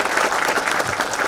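Applause for Janardhan at a political party gathering in Ongole: a steady, dense wash of clapping from a crowd, loud and even for the whole moment.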